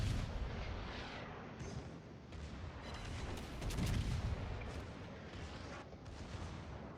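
Heavy naval gunfire from a warship's full broadside in a World of Warships-style battle involving the Sovetsky Soyuz, a dense rumbling barrage of booming shots that swells and rolls continuously, loud and close.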